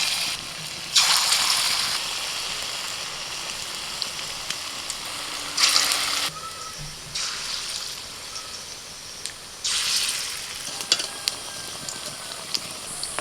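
Bursts of loud sizzling as batter drops into hot oil, three separate surges of crackling hiss over a steady low bubbling.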